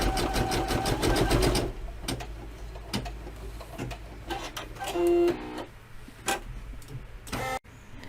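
A Brother F540E embroidery machine stitches in a fast, even mechanical rhythm, then stops and gives short whirring and clicking bursts as it trims the thread between colour sections. The sound is close and moderately loud.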